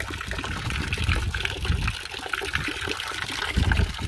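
Water poured straight into a makeshift hand pump setup for an excavator radiator during maintenance, a steady close splashing and trickling stream that runs the whole time without talk.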